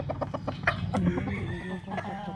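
A mother hen clucks softly and repeatedly close by, mixed with the thin high peeps of newly hatched chicks. The short calls overlap in an irregular patter.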